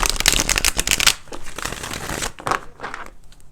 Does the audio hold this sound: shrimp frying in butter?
no